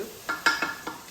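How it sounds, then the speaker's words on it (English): Beef sears in a pot for a beef noodle soup, a soft sizzle with four quick scraping stirs in a short burst, close and moderately loud, with no voices. "So I'm going to allow that to sear just a few minutes longer."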